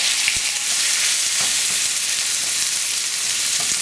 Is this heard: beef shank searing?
yes